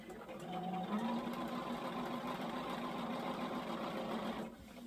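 A quilting and sewing combo machine runs continuously while stitching a quilt border, a steady close whirring motor drone with rapid needle rhythm that stops abruptly at the end.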